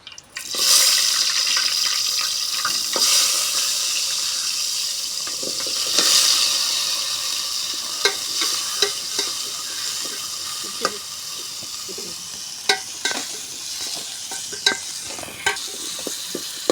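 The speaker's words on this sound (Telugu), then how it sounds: "ఆయిల్ అయితే వేసానండి. ఇప్పుడు అయితే కాయగూరలు అన్నీ వేసేసుకుందాము." Vegetables and potatoes fry in hot oil in a home kitchen, a steady soft sizzle with occasional clinks and scrapes of stirring, no one talking.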